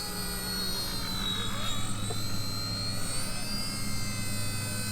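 A tiny RC ERA C032 1/48 scale Huey remote-control helicopter hovering and flying, its small motor and rotor giving a steady high-pitched whine with a low hum underneath, close and continuous with no talking.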